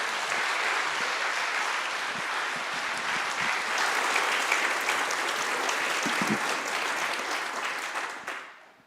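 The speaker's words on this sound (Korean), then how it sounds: "디트로이트의 큰 박수로 우리 목사님을 맞이하겠습니다" Sustained loud applause from a church congregation in Detroit during a Sunday service, steady dense clapping for nearly nine seconds before fading out at the end.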